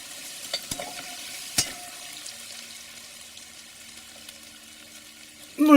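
Onion and chili frying in a pan with a soft, steady sizzle, a few light utensil knocks early on and a louder scrape of stirring at the very end, no voices.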